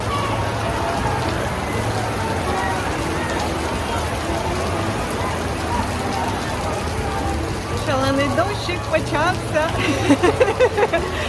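Rain falls steadily on a crowded street in Porto, a dense, even hiss filling the whole scene, with a brief flurry of chirpy, lively sounds rising over it toward the end.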